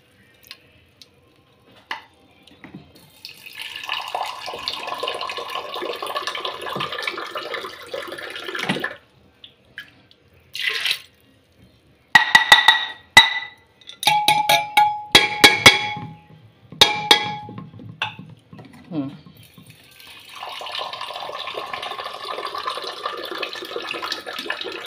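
Water poured over chana dal in a vessel during home cooking prep, with sustained splashing pours at the start and end and a burst of clinking and sloshing as the lentils are handled in between.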